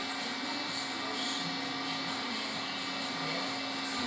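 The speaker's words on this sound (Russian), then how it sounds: "И приступаем к сверлению." A drill bores a channel into a KIA Sorento 2.5 cylinder head, a steady high-pitched whine that holds an even, continuous drone throughout, close and unbroken.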